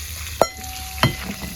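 Second coconut milk is poured into a fish curry in a pan, with a couple of short splashy sizzles and stirring clatter over a quiet background.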